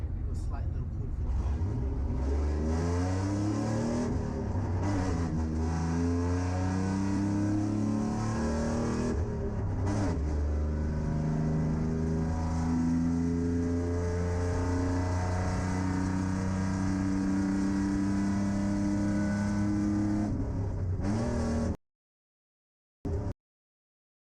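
A cammed, built 4.3 engine roars as the car accelerates hard on a run, loud revving that climbs through repeated rising sweeps for over twenty seconds, with a voice talking over it.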